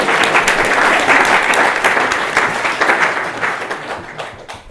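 Wedding guests at Blakelands House break into loud, sustained applause during the groom's speech, a dense crowd of clapping hands close by that gradually tapers off.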